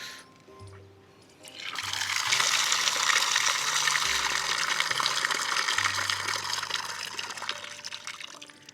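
Water from a desert well in the Thar pouring steadily into a container, a rushing, splashing stream that starts after a quiet moment and runs on at a fairly even level, with faint low thumps beneath.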